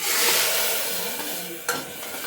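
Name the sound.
lentils added to fried onions in pan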